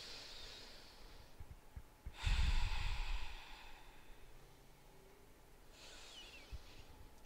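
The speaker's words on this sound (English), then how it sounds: "Two more full breaths here." Slow, deep yoga breathing close to the mic: a soft airy breath, then a louder, fuller exhale around the middle, and a lighter breath near the end, with quiet pauses between.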